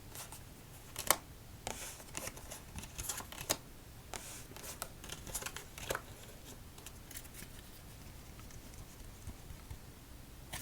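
Quiet, crisp paper clicks and riffling flutters of a deck of playing cards being shuffled for solitaire, in short irregular bursts over a faint background hiss.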